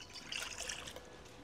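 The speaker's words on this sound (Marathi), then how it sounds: "तर वाटाणे वाफवण्यासाठी आपण पाणी टाकून घेऊया" Water poured into a kadhai wok to steam shelled green peas for crispy poha cutlets: a brief, close, splashy trickle lasting about a second and a half, with no talking.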